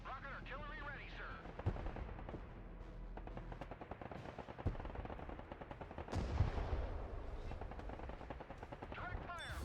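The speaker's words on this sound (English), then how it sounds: "Rocket artillery ready, sir." Rocket artillery fires in the war video game Broken Arrow as a long, dense run of rapid launches and blasts. It sounds loud and continuous, with a voice talking over it.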